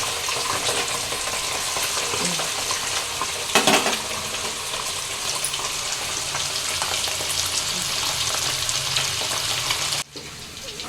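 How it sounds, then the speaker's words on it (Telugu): Fish pieces deep frying in hot oil for a fish pickle, giving a loud, steady sizzle and bubbling throughout, with a brief stir clatter and a sudden dip near the end. "మంచిగా ఫ్రై చేసుకొని డీప్ ఫ్రై చేసుకొని ముక్కలన్నీ వేసుకొని"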